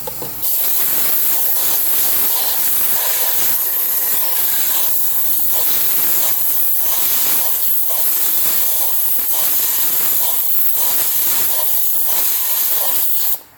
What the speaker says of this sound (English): You're going to need some compressed air.